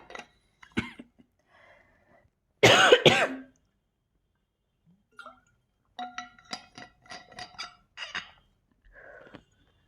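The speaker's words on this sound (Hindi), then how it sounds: "थोड़ा सा खांसी आ रहा है" A single loud cough bursts out close by, followed by scattered light clinks and small sounds in an otherwise quiet room.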